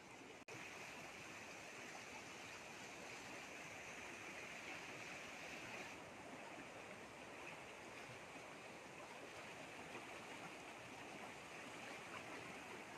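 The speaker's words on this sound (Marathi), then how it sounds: "आवाजावरून तुमच्या लक्षात येत असेल पाण्याचा धूप कसा येतो" Rushing floodwater pours through a small stream swollen after heavy rain, a dense, unbroken roar of flowing water, steady and even throughout with no voices.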